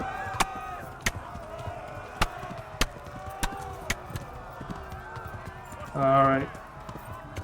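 Horse galloping in the video game Kingdom Come: Deliverance, with sharp, regular hoofbeats striking roughly every half second. A short tonal call rises briefly near the end.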